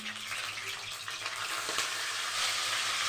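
Potato pieces sizzle loudly in hot oil while a utensil stirs and scrapes through them, a dense steady frying hiss close up, no voices.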